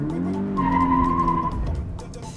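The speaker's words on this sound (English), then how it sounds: "a lot of boys are going to be spinning this car for a long time" A rear-wheel-drive Toyota 86 spins with its tires skidding, giving a loud, steady squeal of about two seconds over engine rumble.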